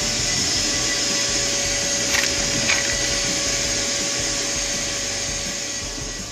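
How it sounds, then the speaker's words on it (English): Shop vac running and sucking up small magnets, a loud steady broadband whoosh with a constant tonal whine throughout, plus a couple of faint clicks partway through as pieces are pulled in. "let's see how my shop vac did on these little magnets"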